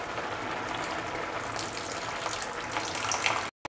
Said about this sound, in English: pour in 50 ml of water